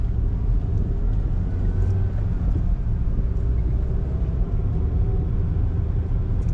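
A 2014 Perodua Alza 1.5 SX manual car drives along, its engine and road rumble a steady, loud, low drone from inside the cabin with no talking.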